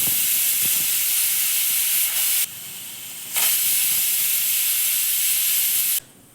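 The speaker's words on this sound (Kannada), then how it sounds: "ಕುದೀತಾ ಇರೋ ಹಾಗೇ ನಾನು ಕುಕ್ಕರ್ ಮುಚ್ಚಳವನ್ನು ಮುಚ್ಚಿಬಿಟ್ಟು 2 ವಿಜಲನ್ನು ಕೂಗಿಸ್ಕೊತೀನಿ" A kitchen pressure cooker cooking fenugreek-leaf rice on medium flame gives off a strong, loud hiss of escaping steam, broken by two sharp drops as the jet pauses briefly, then cutting out near the end.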